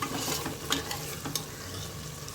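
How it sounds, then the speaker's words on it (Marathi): Yogurt-based gravy for masala matar pulao sizzles steadily in hot oil while being stirred, with occasional scraping clicks from a spoon against the pan, fairly quiet and close, no talk. "ही ग्रेव्ही छान पद्धतीने तेल सुटेपर्यंत परतवून घेऊया"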